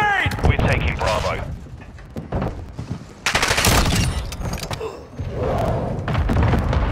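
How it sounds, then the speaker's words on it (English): A stun grenade lands and bursts in a Call of Duty: Modern Warfare 2 multiplayer match, a loud thud among bursts of gunfire and other battle noise, with players' voices over it. "Throw the stun grenade!"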